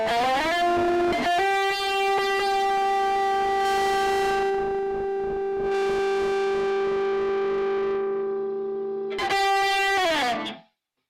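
An electric guitar played through a Screamer distortion pedal gives loud, sustained fuzzy chords that ring out for several seconds, then comes a quick restrike and a sliding chord before it cuts off.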